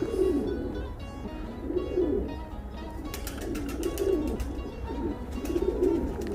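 Pigeons coo repeatedly in a loft, their low rolling calls rising and falling in steady waves over a dense backdrop of flock noise, with faint chirps mixed in.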